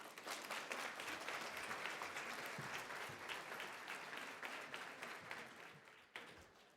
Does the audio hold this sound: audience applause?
yes